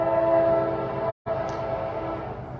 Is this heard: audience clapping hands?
no